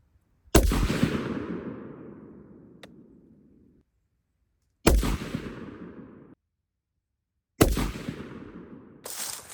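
Three loud rifle shots ring out while a rifle is being zeroed, each a sharp close crack followed by a long rolling echo, spaced several seconds apart.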